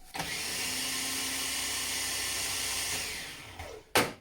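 A food processor whirs steadily, blending almond flour and sugar into a sandy pastry base. The motor hum holds loud and close for a few seconds before winding down, followed by a sharp clunk.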